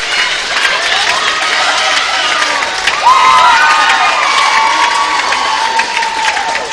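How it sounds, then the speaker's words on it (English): High school varsity boys basketball crowd cheering and shouting after a home win, a loud, sustained roar of voices with whistles and applause running the whole time. "And listen to this crowd."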